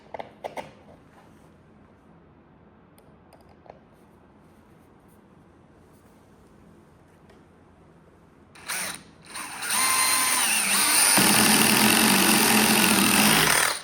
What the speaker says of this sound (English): I'm going to come back here to this end and put a screw in here next